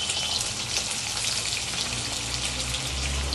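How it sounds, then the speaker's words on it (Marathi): Chopped onions and millet frying in plenty of oil in a pan for Puneri misal, a steady, close crackling sizzle with dense popping, no voices. "तर मी तेलातच टाकते, म्हणजे कांद्याबरोबर ती पण चांगली भाजून निघेल."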